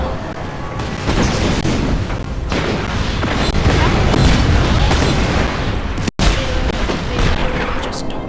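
Heavy explosions in Just Cause 3 boom and rumble continuously, a dense, loud barrage of blasts and crackling debris with a brief dropout partway through.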